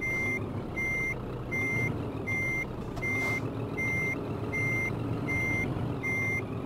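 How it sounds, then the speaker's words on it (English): A truck reversing in Euro Truck Simulator 2, its backup alarm giving ten evenly spaced high beeps over a steady low engine rumble. "I may not be good at driving, but I can back a truck up."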